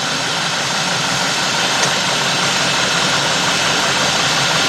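A 2003 Cadillac DeVille with the 4.6 engine idles roughly with a surging idle, a loud, steady broadband engine drone running without a break and with no voices.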